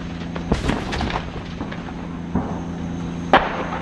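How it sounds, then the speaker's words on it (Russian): Distant heavy weapons fire, grenade launcher and artillery, near Sloviansk, Ukraine: a few sharp, faint thuds and pops spaced out over a steady background hum, with no talking. "Произошли, блин, несколько выстрелов, блин, с гранатомета, блин, и тяжелой артиллерии, блин."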